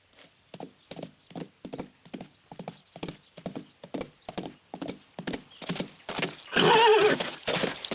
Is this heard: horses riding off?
yes